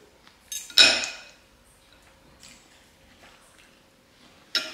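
Fork and spoon clinking against a plate while eating a meal, with one loud clatter near the start, a few softer scrapes, and a sharp clink at the end, close and with no talk.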